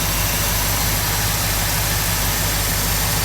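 A 1969 Mercury Monterey engine, fitted with a new thermostat and radiator cap, idles loudly and steadily close by as it warms up, a dense, unbroken mechanical roar.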